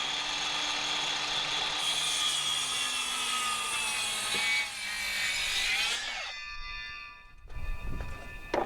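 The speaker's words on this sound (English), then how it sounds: "But I like to use the circ saw for as much of the cut as I can" Circular saw cutting through deck railing wood, a loud sustained whining cut with a falling pitch, then the blade spinning down to a ringing tone and a short burst of handling noise.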